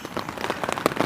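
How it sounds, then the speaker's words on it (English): Heavy rain drums on a tent in the Scottish Highlands, a dense, loud, close patter of drops hitting the fabric without pause. "the noise of the rain on the tent"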